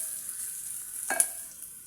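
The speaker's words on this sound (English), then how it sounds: "frying our onion." Onions frying in a hot pan for a kalo and omena dish, sizzling steadily with a constant hissing crackle and a brief louder stir or clatter partway through.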